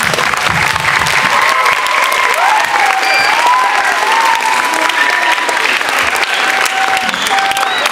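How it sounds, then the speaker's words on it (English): Students applaud steadily at a school assembly, a dense, continuous wash of hand clapping lasting the whole stretch, loud and close with faint voices and cheers mixed in. "Please clap your hands."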